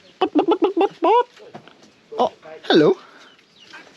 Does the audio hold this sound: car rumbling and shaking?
no